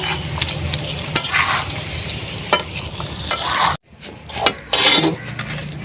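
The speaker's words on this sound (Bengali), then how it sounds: "আমি এখানে এবার চিকেনটা 20 থেকে 25 মিনিট এইভাবে ঢেকে ঢেকে কষিয়ে নেব।" Chicken chaap frying in a pan, with close sizzling and the scraping of a utensil stirring it, broken by a brief drop to near silence partway through.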